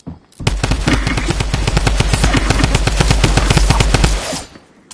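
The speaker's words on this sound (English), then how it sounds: "Who is lasering with the drum gun?" Rapid automatic gunfire from a drum gun in a video game, a dense unbroken burst of evenly spaced shots lasting about four seconds, loud and close, then cutting off.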